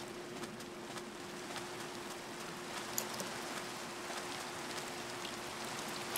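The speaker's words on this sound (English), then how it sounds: "It's raining, it's pouring." Steady, soft rainfall in Minecraft patters continuously with a faint low hum underneath; no voices, just an even wash of drizzle.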